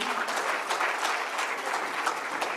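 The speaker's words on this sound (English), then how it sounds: "Can we clap for this team?" Steady, fairly loud audience clapping at the closing session of an economic forum, a continuous even wash of many hands with no pauses.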